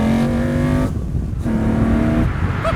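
Ariel Atom 4RR, a 525hp track car, holding a steady throttle on a circuit, its engine a loud, continuous drone with a brief dip in the middle before the tone steadies again.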